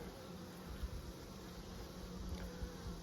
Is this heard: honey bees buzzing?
yes